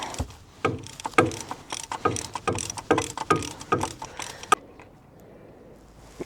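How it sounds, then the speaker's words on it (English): Close metallic ratcheting and clicking from a spanner tightening a bolt on a Toyota Hilux engine guard, a series of short sharp clicks at an uneven rhythm, then quiet. "Let me grab a spanner"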